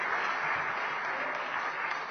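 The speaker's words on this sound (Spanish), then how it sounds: "Un fuerte aplauso entonces al ingeniero de la Fuente" Audience applause for an engineer from the company DataSec at an information security conference, a steady wash of many hands clapping, fairly loud and continuous with no talking over it.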